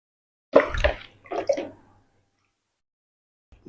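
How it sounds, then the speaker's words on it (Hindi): Water is poured into chicken karahi in a pan, two short splashing bursts close by, then quiet. "अब इसमें जी और कोई चीज नहीं डालनी, इसमें सिर्फ हमने पानी डालना है।"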